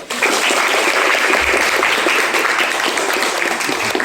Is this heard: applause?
yes